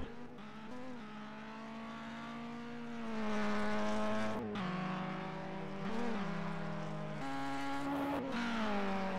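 A Clio Cup race car pulls out of the pit lane at Truxton with a steady, droning engine whose pitch holds, rises and dips as it accelerates. Brief shifts and a fainter second engine come in at the edges.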